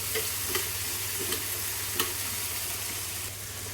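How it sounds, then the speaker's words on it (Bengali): Steady sizzle of potatoes frying with chili powder and salt for chicken curry, with a few soft stirring scrapes near the pan and no talking. "এপাশে আলু ভাজছি"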